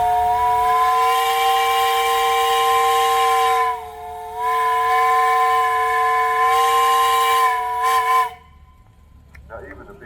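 A steam engine whistle at a Michigan steam engine and threshers festival sounds one long, loud, steady blast that dips briefly partway through, then cuts off and leaves faint outdoor background noise.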